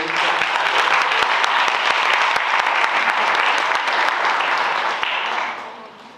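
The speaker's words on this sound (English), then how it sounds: "Please give a round of applause for Ms. Sherry." Sustained applause from a crowd at a Stockbridge Women's History event, dense steady clapping that holds for several seconds and then tapers off near the end.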